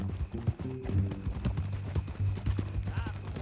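Horse hooves clip-clop in Red Dead Redemption 2, a steady walking rhythm of close hoofbeats with low rumbling background throughout.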